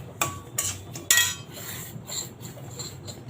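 Semolina being roasted in ghee for fruit kesari, with three sharp metal spoon knocks against the pan early on followed by softer scraping and stirring, with no talking.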